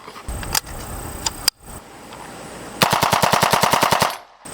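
A PSA Jakl 300 Blackout rifle fitted with an Atrius Super Selktor fires outdoors, first a few loud single shots, then a rapid burst of about fifteen sharp, evenly spaced reports that empties the magazine.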